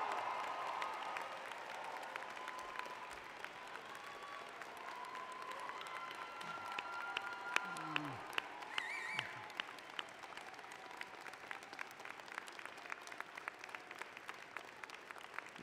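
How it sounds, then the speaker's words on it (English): Sustained applause from a big crowd at a university convocation ceremony rolls on for over fifteen seconds, with scattered cheers and a few whoops rising above the clapping. "I ask your friends, family, and members of the platform to join me in applauding the amazing graduating class"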